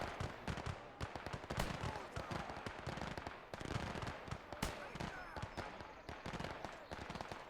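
Rapid sniper and infantry gunfire from the World War II strategy game Gates of Hell, a dense stream of loud cracks and bangs layered over battle noise, with no clear pause throughout.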